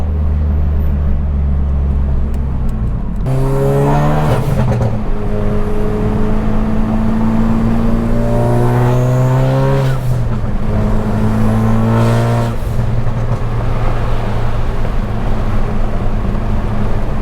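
A BMW car engine roars loudly as it accelerates through several gears, each rising whine dropping at a shift, close by and sustained.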